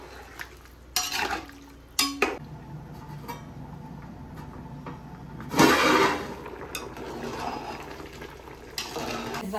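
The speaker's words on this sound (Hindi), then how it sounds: "तो हम इसमें अपने राइस डाल देते हैं। अच्छे से चला देते हैं, मिक्स कर देते हैं।" Uncooked rice being stirred and mixed into boiling water in a pot for chicken pulao, with a few sharp scrapes and clinks of a spoon against the metal pot over a low simmering background.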